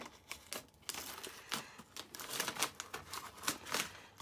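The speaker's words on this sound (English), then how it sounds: "trimming the excess laminate, which I usually just use scissors to do" Scissors trim excess plastic laminate: rapid, irregular snips and crinkly cutting noises, close up, with bursts of plastic crackle and no talking.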